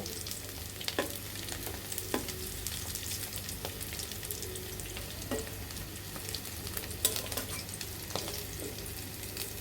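Fish koftas frying in hot oil in a pan, a soft continuous sizzle broken by scattered light clinks and scrapes as they are turned again and again.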